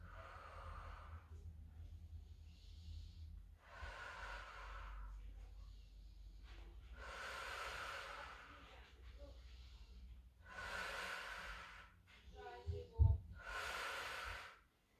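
Breathing during a postnatal workout on the floor: slow, airy exhales come in steady repeated bursts, close and soft, with a faint low hum running underneath.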